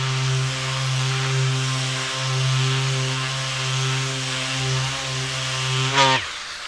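A power sander whirs steadily at close range with a strong tonal hum, holding for several seconds before winding down abruptly near the end.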